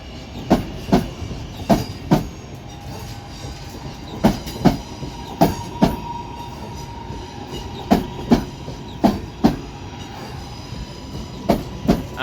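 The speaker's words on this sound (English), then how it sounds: "we've got another 323 arriving in" A British Rail Class 323 electric train pulls into Manchester Piccadilly, its wheels beating out a clear, regular clickety-clack in paired knocks over a low rolling hum, fairly close and with no talk.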